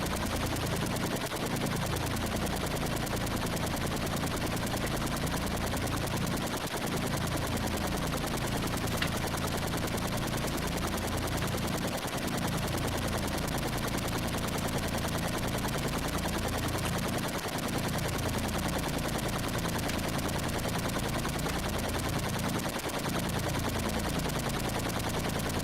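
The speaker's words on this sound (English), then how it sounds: "How do I turn the machine guns freaking off?" Helicopter machine guns firing nonstop in the 1985-86 Atari 8-bit game Super Huey, a loud unbroken electronic rattle with a repeating pulsing pattern, alone and without talk.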